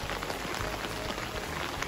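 Dense, even patter of rain falling on surfaces and umbrellas near an overflowing river, a constant close hiss with no pauses and no voices.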